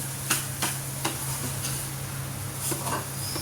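Semolina and sugar being sautéed together in a pan, a soft, steady scraping and stirring with a few sharper ticks of the spoon against the pan, close and continuous with no talk.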